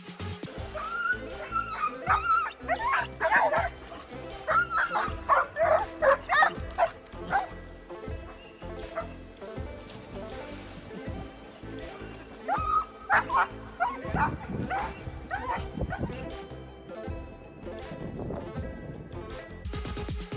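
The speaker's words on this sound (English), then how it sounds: "This man has two overprotective dogs that aren't too happy with him swinging into the river." Two overprotective dogs by a river bark, yip and whimper in agitated bursts, loud and close, with short pauses between flurries.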